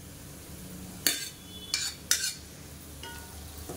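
Cooked basmati rice being stirred into a spice mix in a pan, with a few sharp scraping clatters of a metal spoon against the pan, separated by a quiet, faintly sizzling background.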